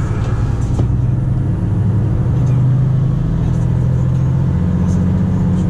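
A Volvo FM 460 truck pulling a smaller 27-pallet trailer drives on snowy roads, its engine a steady loud low rumble with a slowly rising drone throughout, close and continuous.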